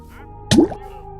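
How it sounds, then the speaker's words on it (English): A single wet plop, like a drip or bubble bursting into liquid, sounds close over a low, steady electronic hum; a Minecraft lava and water sound near a lake. "The same lava and water sounds from the mine."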